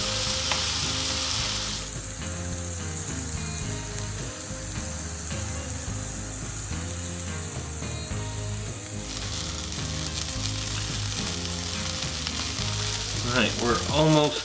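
Frozen Angus burger patties sizzle steadily in a hot pan, a loud continuous crackling fry that holds for the whole stretch with no voices.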